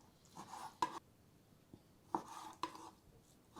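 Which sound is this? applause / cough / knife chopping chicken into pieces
knife chopping chicken into pieces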